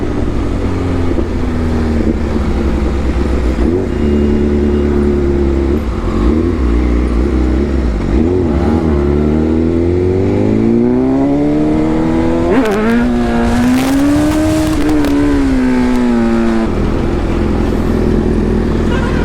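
A Yamaha R15 motorcycle engine drones and revs during a continuous wheelie, pitch sliding up and down with throttle changes, loud and close, with wind noise and faint voices.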